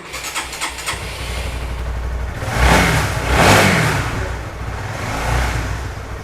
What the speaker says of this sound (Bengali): গাড়ির ইঞ্জিনের সাউন্ডটা শোনায় দেয় একদম ফ্রেশ ওকে স্টার্ট দেন